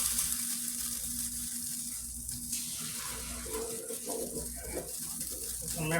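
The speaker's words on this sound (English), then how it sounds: "Let me pour some of this water off." Water pours off a pot of boiling pasta into a sink, a continuous faint splashing trickle with a gurgling surge toward the end, no talking.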